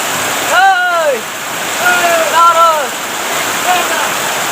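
Heavy rain falls in a steady, dense hiss like rushing water, loud and continuous around the listener, while a person speaks briefly over it.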